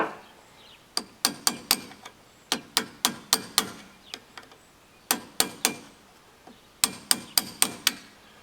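A hammer taps metal while seating a part during an MTD lawnmower tune-up, sharp close strikes in quick clusters of three to five with short pauses between sets.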